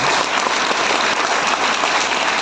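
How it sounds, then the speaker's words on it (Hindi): Loud, dense audience applause from a large crowd at a lecture, steady and sustained throughout without a break. "ताली जोरदार बजा लीजिए"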